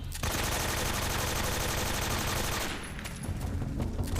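Rapid automatic AK-47 fire in Metal Gear Solid 3, a dense, loud burst of close gunshots lasting several seconds, then easing into scattered shots and echoes.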